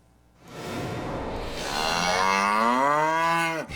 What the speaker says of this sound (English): the arrival of 5 red heifers in Israel attracted global attention. Well, today, those cows are in ancient Shiloh